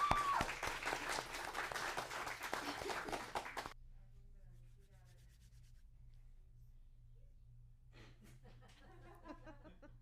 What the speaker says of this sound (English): So a round of applause for Alexander Henriquez, In the Weeds.